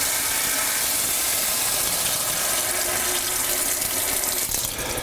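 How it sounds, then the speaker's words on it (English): Hot water pours into a hot butter roux on a stovetop, making a continuous close, even rushing hiss for the whole stretch with no talking. "So you add the hot water to the hot roux"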